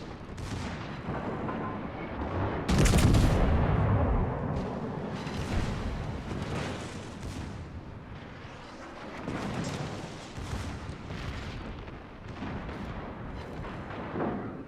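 Heavy naval guns fire in a World of Warships battle, a booming salvo with rumbling blasts and overlapping detonations, the loudest burst early and further explosions echoing on and off.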